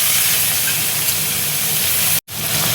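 Chopped onion, whole cumin, bay leaf and chili sizzle loudly in hot oil for a Bengali katla fish curry, a dense, steady hiss that cuts out for an instant near the end.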